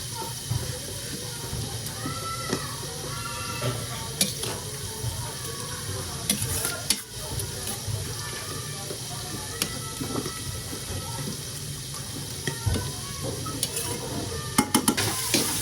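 Mung beans (monggo) being stirred and mashed in a pot while cooking, a steady low sizzle and hiss with scraping stirs and occasional clinks, up close and continuous.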